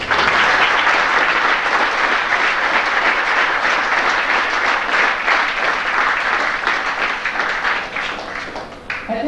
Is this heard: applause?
yes